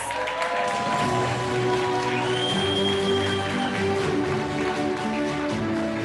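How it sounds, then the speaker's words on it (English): A graduation audience keeps applauding for a graduate, with dense, continuous clapping from a crowd throughout and no clear voices on top. "Another round of applause, please,"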